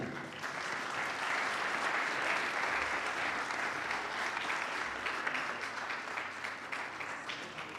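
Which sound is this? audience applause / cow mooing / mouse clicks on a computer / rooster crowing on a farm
audience applause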